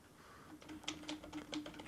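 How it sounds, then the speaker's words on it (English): Someone types on a computer keyboard while setting up a work-from-home VPN, with irregular clusters of fairly quiet key clicks and a faint steady hum behind them, and nobody speaking. "I'm just going to start typing and I'll explain."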